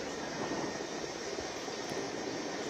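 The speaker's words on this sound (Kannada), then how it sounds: "ಓವಲ್ ಮೈದಾನಕ್ಕೆ ಹೆಲಿಕಾಪ್ಟರ್ ಬಂದಿರುವಂತಹ ದೃಶ್ಯವನ್ನು ನೀವು ಸ್ಕ್ರೀನಲ್ಲಿ ನೋಡ್ತಾ ಇದ್ದೀರಾ" Steady broadband rotor and engine roar of a helicopter landing at the Oval ground in Mysuru, continuous and fairly loud throughout with no voices.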